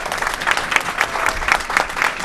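A large crowd at a political rally for the Azad Kashmir elections claps together, the applause swelling in a steady pulsing rhythm of roughly two beats per second and holding loud and dense throughout.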